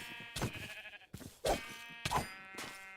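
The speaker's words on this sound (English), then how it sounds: "is get attacked by sheep because I couldn't jump shot them quick enough" Sheep in the RLCraft modpack for Minecraft bleat in three distinct, moderately loud calls spaced about a second apart, with no talking.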